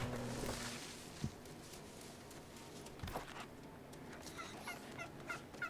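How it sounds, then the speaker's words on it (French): A turkey in the game New World gobbling in short bursts, several quick warbling calls scattered across a quiet ambient background. "Bonjour monsieur le dindon"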